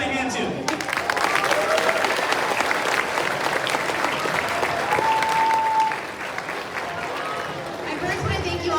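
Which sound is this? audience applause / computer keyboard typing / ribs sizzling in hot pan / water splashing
audience applause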